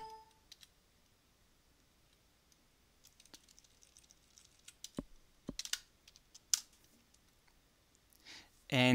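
Keys clatter on a computer keyboard in short, irregular bursts of clicks, mostly sparse and close, with a denser flurry of typing near the end; no one speaks.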